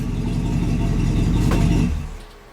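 A 1966 Chevy truck engine keeps idling close by in a steady low rumble after the key is turned off, then winds down and fades near the end.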